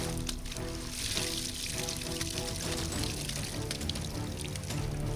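Water gushes from a pipe into a flooded rice field, a steady rushing pour heard under background music.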